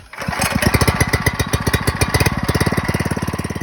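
A small gasoline engine on a water pump catches after a brief start, then runs loud and close with a steady, rapid putter at a low throttle, with no one speaking.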